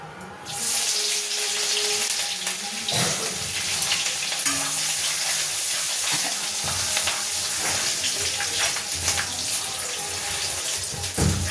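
Steady sizzle of chopped garlic and ginger frying in oil fills the clip, with occasional clinks and scraping from stirring, close and continuous without any voices.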